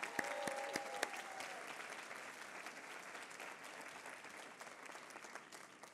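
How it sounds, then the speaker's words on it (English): A crowd claps steadily for several seconds at a Harvard Medical School Class Day ceremony, applause fading slightly toward the end, with no talking over it. "So let's give a big round of applause for Danya."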